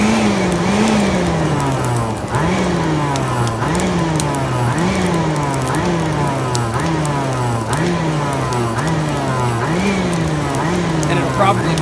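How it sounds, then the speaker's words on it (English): A forge blower on a small homemade blacksmithing setup, pulsed in a steady repeating cycle of rising and falling whine, loud and close, each surge a couple of seconds long across the whole stretch. "I'm going to be pulsing the blower here"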